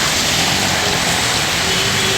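Heavy monsoon rain pouring beside the Ahmedabad–Mumbai expressway near Surat, a loud, dense, unbroken hiss of downpour filling the whole stretch with no voices.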